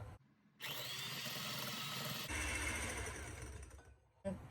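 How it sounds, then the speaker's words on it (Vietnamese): Electric hand mixer running at speed 4 of 6, whipping egg whites for a sponge cake batter: a steady loud whirring motor hum that starts abruptly, runs continuously with a slight pitch shift, then cuts out and briefly restarts. "Mình dùng máy đánh trứng để mình đánh bông cái phần lòng trắng lên."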